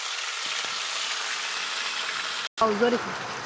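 Ground onion, garlic, cumin and coriander pastes hit hot oil in a pan with a loud, continuous hissing sizzle, briefly cutting out before resuming, while a voice speaks faintly over it near the end.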